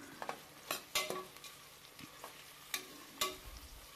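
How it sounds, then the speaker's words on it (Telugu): Onions and green chillies frying in a pan for a Telangana-style goat head curry, heard as a soft, low sizzle with scattered scraping and clinking stirs of a spoon, fairly faint, with no talk. "ఆనియన్స్ వేసి అన్నీ ఒకసారి కలుపుకుంటున్నాను."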